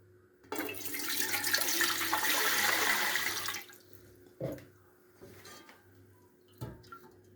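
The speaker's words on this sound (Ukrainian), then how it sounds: "Наливаємо літр води." Water pours steadily into a pot for about three seconds, close by, followed by a few faint clinks and drips; a litre of water poured for pickling mushrooms.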